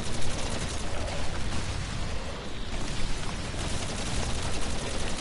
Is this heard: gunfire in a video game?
yes